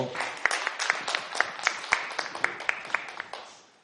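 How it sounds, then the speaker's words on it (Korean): An audience at a Korean public debate forum claps to welcome a speaker, giving a continuous patter of applause with sharp individual claps standing out. It tapers off toward the end. "힘찬 박수로 모셔주십시오."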